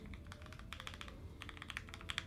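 Typing on a Bakeneko65 65% mechanical keyboard, quick irregular clacky keystrokes in bursts, close and fairly quiet, no voices.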